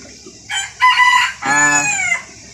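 A Black Cochin rooster crows loudly and close by, a harmonic call that rises and holds for about two seconds, with a shorter call just before it.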